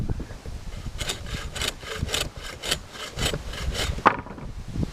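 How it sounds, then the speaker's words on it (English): Rhythmic back-and-forth strokes of a buck saw cutting through wood, about ten steady passes, close and fairly loud, ending with a sharp snap. "you can use the old buck saw."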